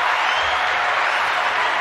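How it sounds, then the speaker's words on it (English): Studio applause rolls steadily at full loudness, a dense continuous wash of clapping from a crowd that carries through the whole short moment. "here we go with the applause"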